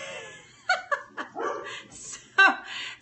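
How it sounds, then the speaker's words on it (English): A dog in a home near a kitchen countertop barks in a few sharp, loud yips, then gives one final bark after a short pause. "he's really gonna give it a bark today"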